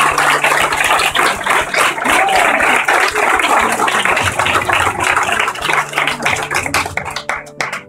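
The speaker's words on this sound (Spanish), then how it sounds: "Un gran aplauso para las mujeres de Mensajeros de la Paz." At a Christmas gala in a residential care centre, the crowd applauds the women of Mensajeros de la Paz with loud, close, dense clapping mixed with rattling and background noise, continuing throughout and thinning into scattered claps near the end.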